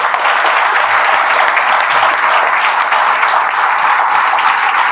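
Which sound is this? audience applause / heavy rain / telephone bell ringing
audience applause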